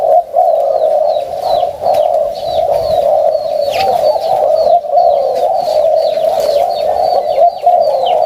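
A dove coos repeatedly in a steady rhythm, soft rounded calls close by, with small birds chirping faintly behind.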